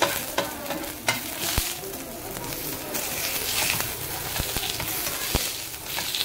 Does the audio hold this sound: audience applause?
no